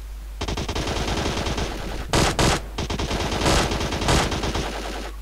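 Rapid bursts of automatic gunfire in PUBG Mobile, loud and dense, with a couple of heavier booming shots in the middle; no talking.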